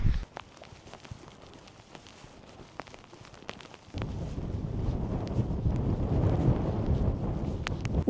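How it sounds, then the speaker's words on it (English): Strong wind gusting outdoors on the shore of Lake Windermere, rumbling and buffeting the microphone, lighter at first, then suddenly heavier and louder, with scattered small clicks and footsteps-like knocks. "the wind coming from this direction is pretty strong"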